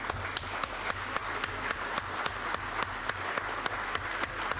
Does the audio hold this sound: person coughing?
no